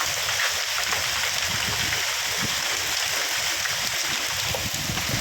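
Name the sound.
hail falling under a wooden roof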